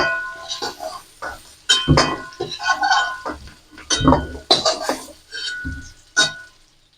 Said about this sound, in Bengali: আলুগুলোকে আমি একটা জায়গায় নামিয়ে নেবো কড়াই থেকে